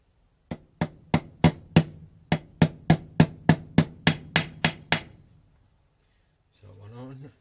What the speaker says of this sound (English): Actual hammer for that.